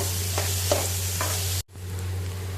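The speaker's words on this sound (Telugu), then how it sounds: "ఉల్లిపాయ వేసి ఒక 10 నిమిషాలు వేగనివ్వాలి." Onions with green chillies frying in a pan for bitter gourd curry, a steady close sizzle with a few stirring scrapes, cut off briefly partway before resuming.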